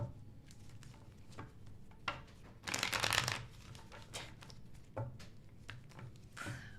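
Tarot cards are shuffled by hand in a series of soft riffling bursts, one longer and louder flurry in the middle, close and fairly quiet with no talking.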